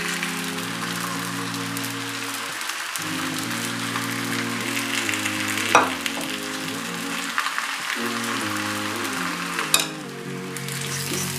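Puri deep-frying in hot oil, a steady broadband sizzle lasting throughout with a couple of sharper pops, over a low, sustained tonal background.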